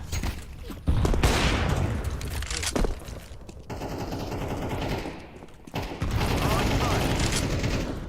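Bursts of automatic gunfire with mechanical weapon handling in a Counter-Strike 2 round, loud and close, broken by short pauses; no clear grenade blast stands out.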